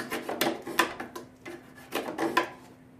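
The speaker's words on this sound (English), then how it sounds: "I'm just taking one of these box cutting blades and I'm just going straight up on it and smoothing it out" A box cutter blade scrapes and smooths a glued piece on a storybook cottage model, with short close rasping strokes coming in two quick bursts and no talking.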